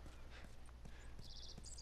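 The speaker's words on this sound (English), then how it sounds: "She thought about running off, but the horse doesn't want to move." Horse hooves clip-clop in a few soft, spaced steps in The Last of Us Remastered, with faint background ambience and no talk.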